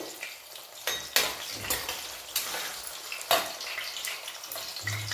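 Onions fry in oil with a soft crackle, punctuated by a few clattering stirs of a utensil against the pan; fairly quiet and close.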